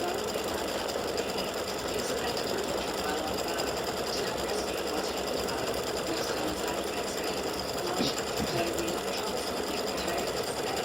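An embroidery machine stitches a St. Patrick's Day hat design, a steady, fast mechanical whir and rattle of the needle running continuously at moderate volume.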